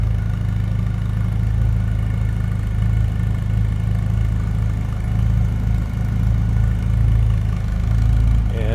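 A 1967 MG Midget Mark II convertible idles steadily, its engine a close, continuous low rumble heard from around the back of the car with no voices over it.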